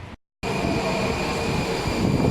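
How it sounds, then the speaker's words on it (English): A train arriving at a station in Washington DC gives a loud, continuous rumble of rolling rail cars with a steady high whine. The sound starts after a brief silent gap and then holds steady. "The train is here."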